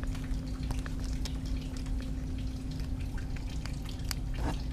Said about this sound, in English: I'm just afraid it'll still drip.